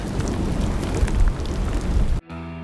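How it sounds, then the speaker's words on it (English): Steady rain falls outdoors in Albuquerque, a dense continuous hiss of drops that stops abruptly near the end, leaving quieter background noise. "A little bit of rain."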